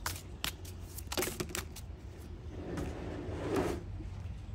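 Moonology oracle cards are shuffled in quick riffling bursts, close and crisp, followed by a softer sliding rustle of the deck.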